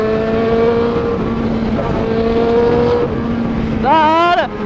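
Yamaha XJ6 motorcycle with an aftermarket exhaust riding in steady, loud engine drone, then revving up sharply near the end with rising pitch sweeps; close and continuous, with a voice speaking over it.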